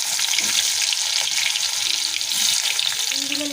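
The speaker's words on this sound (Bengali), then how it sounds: "এই মাছের তেলে বেগুনগুলো ভেজে নেবো লাল লাল করে" Eggplant pieces frying in leftover hilsa fish oil, a loud, dense and continuous sizzle that fills the whole stretch without pause.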